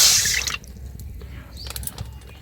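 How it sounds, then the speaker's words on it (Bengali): Half a bowl of water pours onto freshly grated coconut, a brief bright splashing rush that quickly fades into quiet dripping and small trickles nearby. "হাফ বাটি জল দিয়ে দিচ্ছি"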